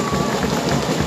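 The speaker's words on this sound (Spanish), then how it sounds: "Fuerte las palmas" An audience at a school band contest applauds in a dense, steady wash of clapping, loud and continuous for a brief moment.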